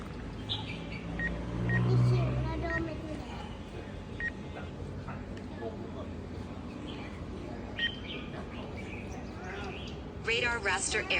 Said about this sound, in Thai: radar raster error radar raster error แจ้งเตือนอยู่แบบนี้นะครับ ตลอดการบินเลย